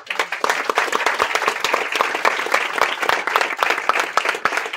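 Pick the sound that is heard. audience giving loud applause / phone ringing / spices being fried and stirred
audience giving loud applause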